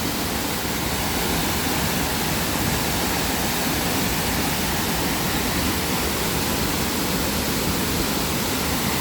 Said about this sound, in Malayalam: ഒരു ചെറിയൊരു വെള്ളച്ചാട്ടം